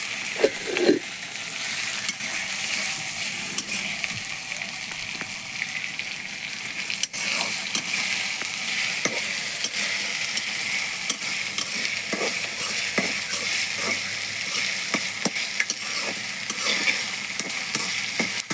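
Food fries in a pan with a steady, even sizzle throughout. Occasional clinks and stirring scrapes sound close by, and no one speaks.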